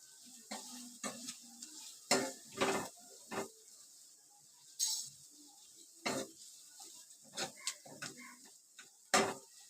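Spinach and chana dal curry being stirred in a pot: faint, intermittent spoon scrapes and clinks against the pot in short bursts separated by quiet gaps, heard alone without speech.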